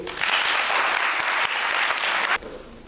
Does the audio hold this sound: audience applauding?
yes